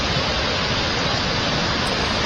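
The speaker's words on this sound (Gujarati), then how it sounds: "જમજીર ધોધના આ દ્રશ્યો છે, અદભુત નજારો, નયનરમ્ય નજારો" Monsoon-fed Jamjir waterfall in Gir Somnath pours in a steady, loud, broadband roar of rushing water, unbroken and close, with no voices over it.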